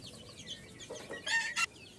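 Fancy backyard chickens, hens and cocks of breeds such as Golden Sebright, cluck in a short burst of sharp calls near the end, following quieter scattered clucks and chatter.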